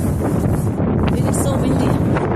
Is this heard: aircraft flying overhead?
no